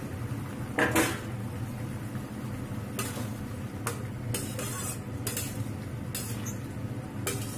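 Lata fish pieces go into a simmering spicy oil curry with potato and brinjal in a pan. Utensils clink and stir against the cookware in sharp, scattered taps over a steady low simmer, with no talk.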